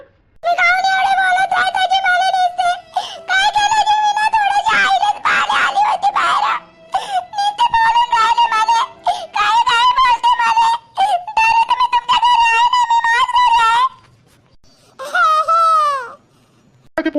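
A young child screams and cries loudly in long, wailing bursts through most of the clip, with short breaks and a final sobbing cry near the end, in a rural Marathi household.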